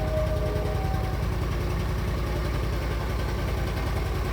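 An Argo ATV engine running after being fitted with a new carburetor, new fuel pump and fresh oil, a steady low idle rumble held evenly throughout.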